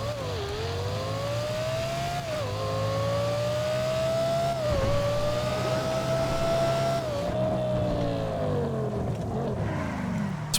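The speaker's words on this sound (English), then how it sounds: "I've also added the Lexus LFA sound to correspond with it, so you can hear how it sounds" In GTA 5, an Emperor Sheava fitted with a Lexus LFA engine sound revs loud and close, pitch rising through gears with several sharp shifts, then easing off as it drives down the street; no talking.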